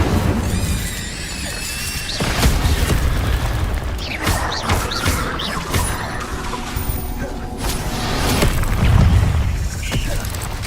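Repeated Incendio fire spells are cast in Hogwarts Legacy combat, with booming whooshes and crackling bursts amid dense battle noise and game music, while a player shouts over it.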